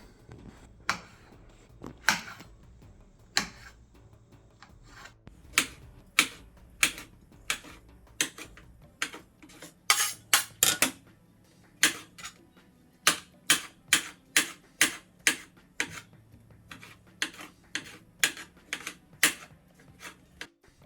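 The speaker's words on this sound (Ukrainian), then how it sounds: "Нарізаємо цибулину одну велику." A knife chops a large onion on a board in a kitchen, making crisp, sharp taps that are irregular at first and then come in quicker clusters. The sound is quiet and close, with no talking.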